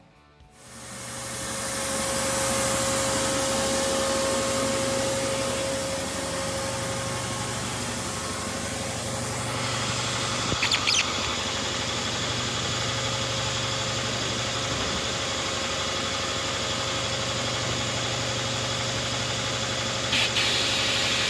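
A Harbor Freight sandblasting cabinet with an upgraded window runs with a vacuum media pickup drawing in fresh air, giving a steady, loud mechanical roar and hiss with a low hum throughout, brief clatter near the middle.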